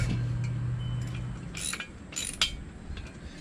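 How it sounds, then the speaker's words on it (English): A ratchet wrench tightening bolts on a Haul-Master car dolly mover during assembly, giving close, clicking mechanical bursts of ratcheting with brief pauses between strokes. "so basically what I'm doing is I'm tightening these up."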